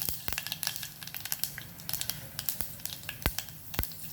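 Asafoetida and fenugreek seeds hit hot oil for a dal methi usal, giving a steady close sizzle dotted with sharp pops and crackles that keep going throughout, with no talking.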